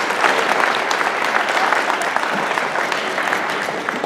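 Loud, full applause from an audience after a choir and children perform, many people clapping together in a thick, even roar that eases slightly toward the end.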